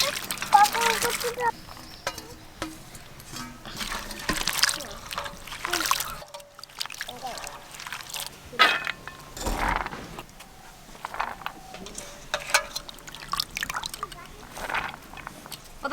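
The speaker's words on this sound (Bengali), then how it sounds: "জল দিয়ে খুব ভালো করে পেঁপেগুলো ধুয়ে নেব।" Chopped papaya pieces being washed, with water sloshing and trickling in bursts throughout, fairly close, while people talk over it.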